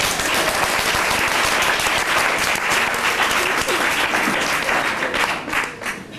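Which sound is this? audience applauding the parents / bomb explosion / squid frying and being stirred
audience applauding the parents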